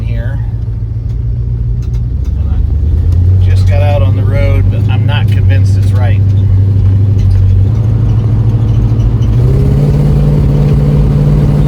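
A car engine drones steadily under load on a test drive after valve cover work, its pitch surging and climbing as it revs, loud and close, with a brief voice partway through.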